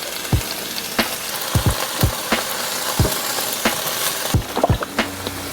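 Onions and peppers fry in a hot pan, a dense continuous sizzle broken by repeated sharp clacks and scrapes of a utensil stirring, close and fairly loud.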